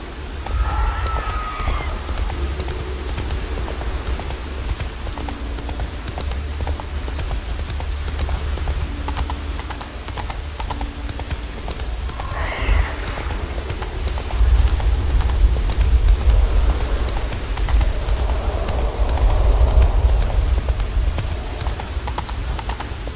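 A horse gallops in The Witcher 3 on Skellige, steady rhythmic hoofbeats running throughout at close range, with game ambience and a faint voice underneath.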